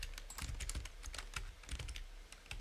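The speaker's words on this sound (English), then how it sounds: "my keyboard, I need to get a new keyboard" Quick, steady clacking of a computer keyboard being typed on, a dense run of close, light keystrokes with no voices over it.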